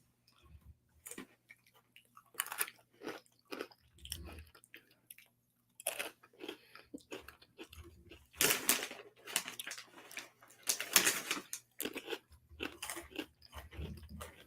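Crunchy chewing of Andy Capp's hot fries, a potato-stick snack with mild spice, in repeated close bursts of bites and crunches separated by short pauses.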